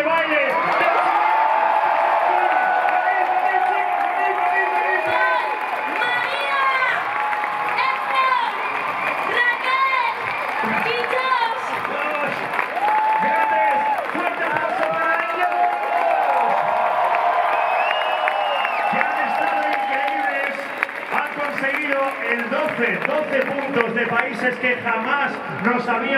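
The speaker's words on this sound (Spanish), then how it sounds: "aprovechémonos en este momento con un fuerte aplauso a todo el equipo de baile" Crowd in Madrid's Plaza Mayor applauding and cheering for a dance team at a Eurovision homecoming event, a continuous dense roar of clapping and whoops with voices mixed in throughout.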